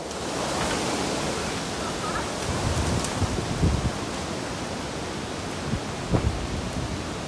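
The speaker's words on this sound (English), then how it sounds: "Got a thunderstorm rolling in right now. Wind is blowing, rain is falling." Steady heavy rain hisses with wind roaring throughout, and occasional low thunder rumbles thump in the distance, at night near a lake boat launch.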